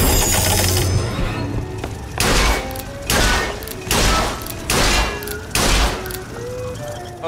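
Gunfire bursts from a firearm in Bioshock Infinite: Burial at Sea, five or six loud sharp volleys at roughly one-second intervals over a busy game soundscape, with a voice talking in between.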